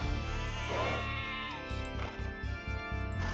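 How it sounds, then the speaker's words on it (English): Sheep bleating in Age of Empires II: wavering, nasal bleats layered over steady game background tones, with a few overlapping calls spread across the moment, moderately loud. "So I'm going to move all of our sheep to right here."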